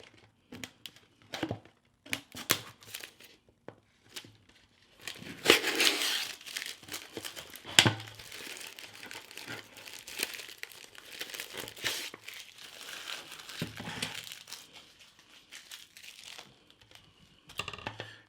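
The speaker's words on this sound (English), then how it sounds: "first you want to take your scissors and you want to remove the label from" Crinkling and crackling plastic comes in bursts as scissors cut and peel the label off a plastic bottle, close and fairly quiet, with a few sharper snaps near the middle.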